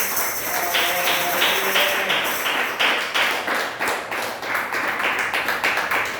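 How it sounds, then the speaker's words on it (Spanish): Church congregation applauds during a sermon, producing loud, rhythmic clapping in fairly regular pulses, with a faint sustained musical tone underneath at the start. "Dale un fuerte aplauso al Señor."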